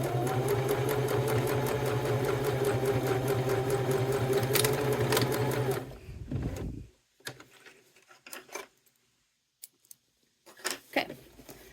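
A sewing machine stitches a wallet seam of cork and thread, a fast steady mechanical whir for about six seconds before stopping, followed by scattered clicks and handling sounds.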